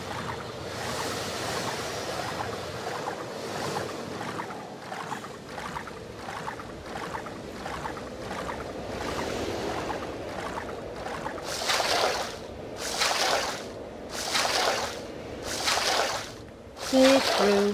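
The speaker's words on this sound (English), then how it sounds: "Wade through the water." Wading through water in a Tomb Raider level editor game, with a steady run of soft watery sloshes that ends in several louder, broad splashing surges.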